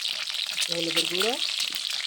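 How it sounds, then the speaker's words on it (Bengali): Eggs frying in hot mustard oil in a pan, a loud continuous close sizzle with a brief tonal squeak partway through. "সুন্দরভাবে তেলটা গরম হয়ে গেছে, ডিমগুলো ছেড়ে দিব।"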